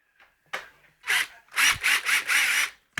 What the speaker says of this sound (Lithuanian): paskui su suktuku jį prigręžint